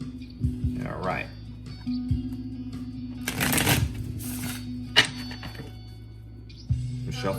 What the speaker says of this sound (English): We'll shuffle this and we'll see if the tarot is the same way.